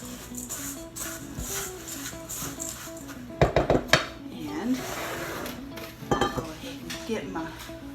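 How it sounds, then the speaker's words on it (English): Butter and cracker crumbs are mixed in a dish for a chicken casserole: close scraping and clinking of a utensil against the dish in uneven bursts, with a few sharper knocks. "You can smell the butter and the cracker crumbs are mixing."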